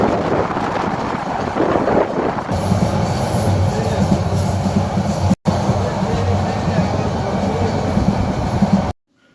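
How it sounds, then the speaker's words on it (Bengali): Passenger train travelling from Cox's Bazar to Dhaka, heard from inside a carriage: a loud, continuous rumble of wheels on rails with rattling and squeal, briefly cut once before ending abruptly. "কিছুক্ষণের মধ্যেই ট্রেন ছেড়ে দিবে"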